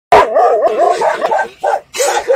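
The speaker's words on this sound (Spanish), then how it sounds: "ahí está el otro perrito" A dog at an animal shelter in Chorrillos barks and whines in close, loud bursts, with short yelping calls repeating over about two seconds.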